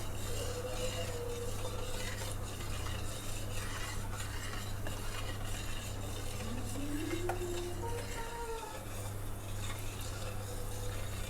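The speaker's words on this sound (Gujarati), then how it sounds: "આ રીતે હળવા હાથે ચમચીની મદદથી તેલને ફેરવતા જઈશું." A spoon stirs hot oil in a pan while gulab jamun fry on a low flame, making soft scraping, clinking strokes over a faint steady sizzle, with no talking.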